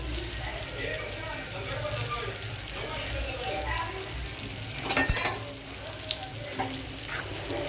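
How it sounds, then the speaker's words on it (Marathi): Prawns cook in a pan with coriander, giving a steady, fairly quiet frying sizzle throughout, broken by a brief metallic clatter midway. "आता त्याच्यामध्ये आपण कोळंबी टाकू गार्निश केलेली"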